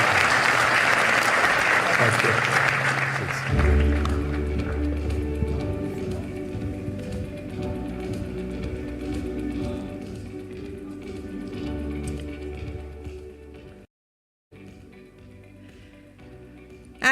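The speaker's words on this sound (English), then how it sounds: "a big round of applause for KV Kamath and Rob Goldstein" A conference audience claps loudly and densely for KV Kamath and Rob Goldstein at a Reliance Industries and BlackRock event; the applause fills the first few seconds, then gives way to steady background music with a brief thank-you spoken over it.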